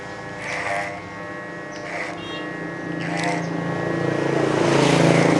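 Electric hair clipper running close while shaving fine hair during a classic adult haircut, a constant motor hum with buzzing strokes that grows louder toward the end.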